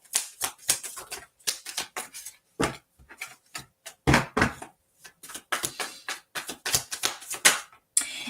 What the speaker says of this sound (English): Let me just pull some cards and just see.